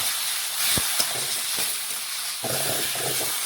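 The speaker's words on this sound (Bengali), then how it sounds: "এই দেখুন এইভাবে মিশিয়ে একটু ভেজে নিলাম" Chopped tomato frying in a pan with black pepper, cinnamon and turmeric in very little oil gives a steady, close hissing sizzle, broken by a few sharp clicks and scrapes of stirring, with no talking.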